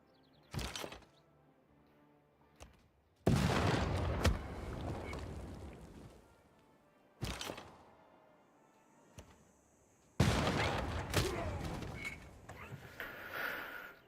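Units drop bombs in the strategy game Civilization VI during a Nubia campaign: short sharp impacts alternate with two longer, loud rumbling blast sequences that roll on for several seconds, with quiet gaps between them.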